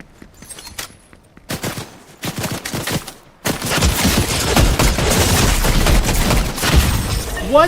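Bursts of OXR rifle fire in Fortnite, scattered shots at first, then a dense, continuous volley of loud gunfire with crackling impacts for the last few seconds.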